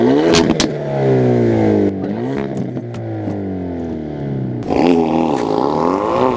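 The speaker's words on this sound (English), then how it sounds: "we're going to take the Veloster N out for a spin" A 2019 Hyundai Veloster N revs loudly up through the gears, the engine note rising and dropping at each shift, heard close from inside the car with a short lift-off before pulling hard again.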